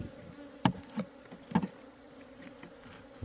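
Honeybees and hornets buzz around a honey-scented feeder, passing close by in a few brief, loud swells over a faint background drone, with no speech.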